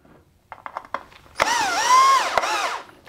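Power drill driving screws through threaded inserts into a 3D printed slip-casting mold: a few short clicks and taps, then a loud, close motor whine that rises, dips and rises again before cutting off.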